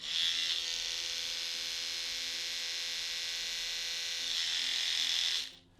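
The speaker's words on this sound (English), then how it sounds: "It's quite a mechanical sound that it actually makes from the oscillating-rotating brush head that we've got here." A Solimo rechargeable electric toothbrush's oscillating-rotating head whirs steadily with a loud, high mechanical buzz for several seconds, then cuts off abruptly at the end.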